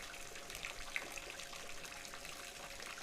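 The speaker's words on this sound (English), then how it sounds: "crazy how fast a small tank fills up" Water flows into a small aquarium tank as a quiet, steady trickle and gush, soft and continuous throughout with no talking.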